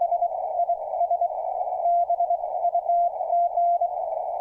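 Continuous CW Morse code tone around 700 Hz, played through a tuned audio speaker on a ham radio receiver, a steady clear sidetone with slight keyed breaks and mild fading, alone without talk.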